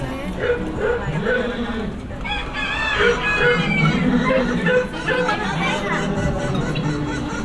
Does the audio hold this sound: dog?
yes